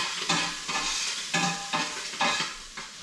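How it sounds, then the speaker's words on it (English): A stew pot of collard greens with bacon and onion is stirred in a few loud, scraping strokes, each swirl rising and fading in a steady rhythm against a faint simmer, close by with no voices. "I'm just going to run over and stir the pot for a sec."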